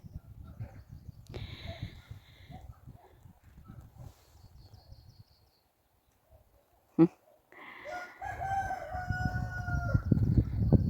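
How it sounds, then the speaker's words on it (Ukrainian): A rooster crows loudly and drawn-out near the end, after quieter farmyard sounds, a brief pause and a sharp bang; another faint crow earlier. "Півник з вами вітається."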